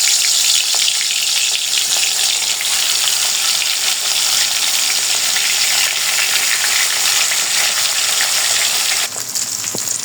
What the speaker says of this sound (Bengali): এখন আমি মাছগুলো ভেজে নিব।